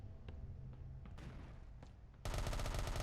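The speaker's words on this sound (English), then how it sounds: "I hear the SMG, I think" SMG gunfire in the video game Project: Contingency breaks out as a sudden loud, rapid automatic burst, following scattered softer thumps and shots.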